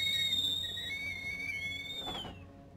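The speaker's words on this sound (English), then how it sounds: "It's a whistling kettle." A whistling kettle in the video game The Medium gives a loud, sustained, steady high whistle that holds for a couple of seconds, then wavers and fades out.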